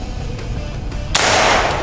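A single sharp gunshot cracks at a shooting practice range and rings out with a bright, sustained tail, following a stretch of quieter background noise.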